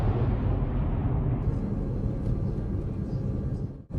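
A passenger airplane climbs away after takeoff, a heavy continuous roar and low rumble that holds steady before cutting off abruptly near the end, in a horror film.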